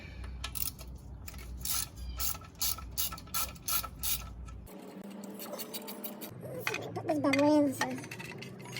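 A ratchet wrench loosening bolts and nuts under the oil pan of a Lada 2106, heard as close, rapid metallic clicking in bursts, then a pause with faint clinks and a brief squeaky scrape of metal.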